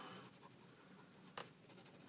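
Soft pencil strokes scratch across paper over a jelly-print background in a quiet indoor setting, a faint steady rasp with one brief louder stroke midway.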